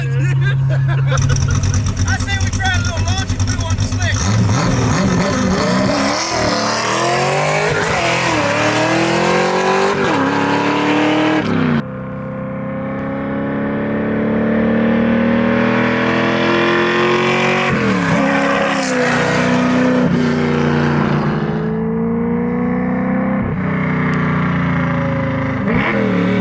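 A 1967 Ford Mustang on slicks launches hard, its engine roaring loud and close as it revs up through rising sweeps, briefly drops, then climbs again with a long, strained howl, and a voice is heard beneath it.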